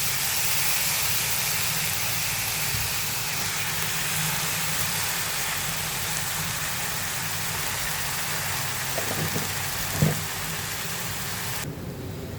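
Beans and capsicum hit a hot pan for a curry, and the vegetables hiss in a steady, dense sizzle that runs throughout. A few faint clinks sound near the end, with no talk.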